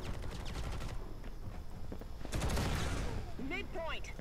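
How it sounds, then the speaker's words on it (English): Rapid automatic gunfire rattles in the mobile shooter Modern Combat Versus, dense bursts over a steady game background that swell louder midway, with a few chirping game effects near the end. "we're shooting that"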